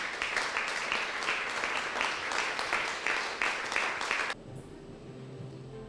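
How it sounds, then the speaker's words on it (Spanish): A church congregation claps in a steady, rhythmic burst of applause that stops abruptly, followed by quiet room tone with a faint tone and low murmurs. "Démosle un aplauso"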